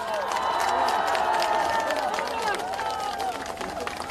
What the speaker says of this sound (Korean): 한동훈 총괄선대위원장님을 큰 박수로 맞아주시기 바랍니다